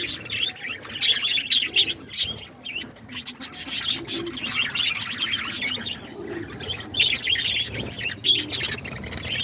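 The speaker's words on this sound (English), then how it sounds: "for the Budgies, cockatiels, and lovebirds and everything" Budgies, cockatiels and lovebirds chirp and tweet in a busy continuous chorus, with low pigeon-like cooing underneath, nearby and outdoors at a feeding spot, with no voices.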